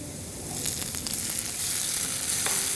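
Onions and tomatoes sauté in a pan for Parsi-style potato and eggs, giving a steady, close sizzle with faint stirring scrapes and no talking.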